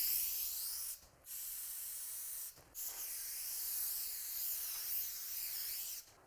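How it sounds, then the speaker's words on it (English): Steady hiss of an aerosol spray adhesive can in three long bursts onto the back of an acoustic wall panel, separated by brief pauses, close and fairly loud. "we're also going to spray the back of the panel itself."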